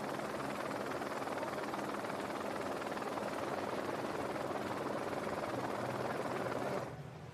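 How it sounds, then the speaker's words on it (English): A helicopter over the Sarasota Grand Prix powerboat race gives a constant, broadband rotor-and-turbine roar for several seconds, then drops off sharply at the very end; no voices. "I hear a helicopter."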